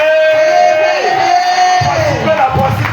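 A church congregation cheers and shouts together in acclamation, loud and sustained, with whoops and yells rising over a steady roar of many voices.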